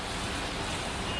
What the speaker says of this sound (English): it's kind of windy right now, so it'll be interesting to see if that picks up in any of the audio